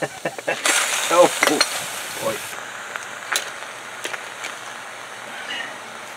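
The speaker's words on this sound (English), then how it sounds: "it's still sizzling" A steady hiss and crackle of hot metal sizzling after heating with a home heating oil burner, with faint clicks and brief tonal bits early on, fading into a quieter ongoing sizzle.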